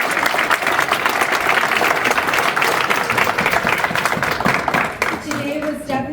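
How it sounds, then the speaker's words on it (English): Applause for student competitors at a university pitch competition: a steady wash of crowd clapping lasts several seconds before thinning out, with a voice coming in near the end. "One more big round of applause for our student competitors"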